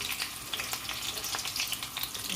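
Green chillies frying in hot oil in a pan, a dense, even sizzle with small crackles, close and steady throughout.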